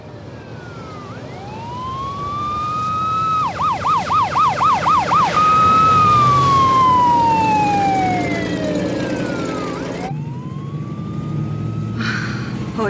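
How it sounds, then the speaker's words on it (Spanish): A loud police siren wails up and down, then breaks into a rapid warbling yelp before sweeping back into a long falling wail, close by. "Oír las sirenas."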